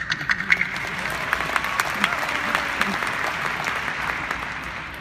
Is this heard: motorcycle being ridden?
no